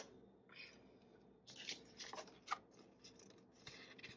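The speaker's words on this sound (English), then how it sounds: "Maybe I'll use the bigger scissors" Large scissors snipping paper for a memory-keeping photo journal, a few quiet, close, irregular cuts and rustles over a few seconds.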